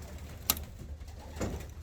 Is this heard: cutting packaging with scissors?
no